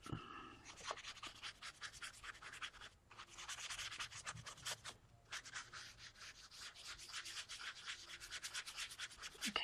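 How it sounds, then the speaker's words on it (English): A paintbrush is scrubbed back and forth to clean out paint while colouring a peacock poster, giving faint, close, rhythmic rubbing and scratching strokes with a brief pause midway. "I'm just cleaning that paint out of my brush so I can get more, clean color here"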